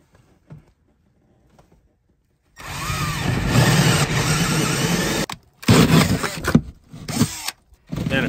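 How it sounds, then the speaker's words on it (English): A hole saw boring a deeper hole, in a project built around a diesel heater, starts after a quiet lead-in as a loud grinding drone, then stops and restarts in short bursts. "The Forstner wasn't quite long enough, so I found a hole saw that will go a little deeper."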